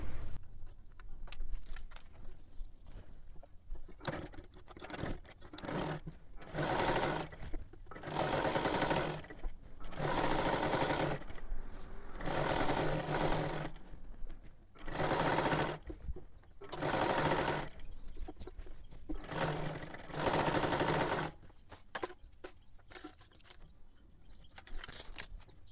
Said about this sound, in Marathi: ते बघा मी पूर्ण शिलाई मारून घेतली